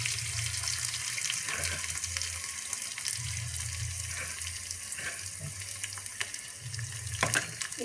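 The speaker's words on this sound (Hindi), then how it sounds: "इसी के साथ मैं थोड़ा सा वाटर ऐड करूँगी इसमें" Water poured into a pan holding green chili and sugar, a steady hissing stream with soft pulsing splashes, close and continuous, with no talk.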